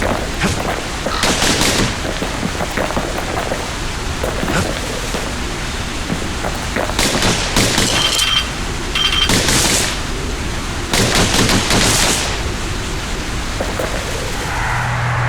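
The Kid's guns firing in the video game Bastion, dense bursts of rapid gunshots in loud clusters with brief lulls between them, over a constant noisy backdrop.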